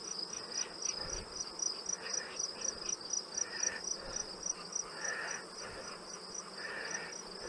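Honey bees massed thickly across the fronts of two beehives during a late-summer honey harvest make a steady, dense insect drone with a thin high whine running throughout, fairly close and unbroken, with no voices.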